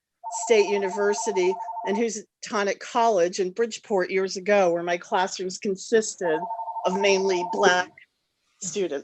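A telephone rings during a school boards of education meeting, repeated electronic tones sounding in two bursts beneath a woman's continuous speech at the microphone.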